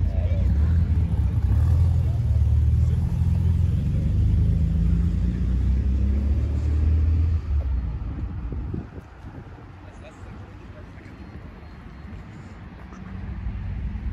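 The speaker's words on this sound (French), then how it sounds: "Putain, mais il y a plein de voitures qui arrivent" Cars, including BMWs, Corvettes and a GTR, arrive at a car meet in Bouc Bel Air. A heavy low rumble mixed with wind buffeting dominates the first half, then eases to a quieter background hum.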